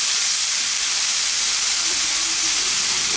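Spice masala for a Bengali-style ridge gourd dish frying in a pan, a loud, steady, close hiss of sizzling that holds constant throughout.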